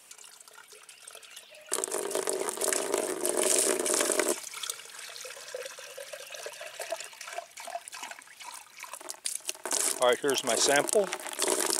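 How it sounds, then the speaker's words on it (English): Water from a tap runs into a jar as it is rinsed and a water sample is collected, with a steady splashing flow in two long bursts, close by, and a person speaking briefly near the end. "First thing we want to do is rinse the jar and then collect a sample."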